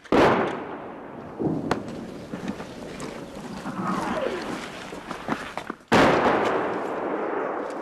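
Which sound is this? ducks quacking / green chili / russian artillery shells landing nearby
russian artillery shells landing nearby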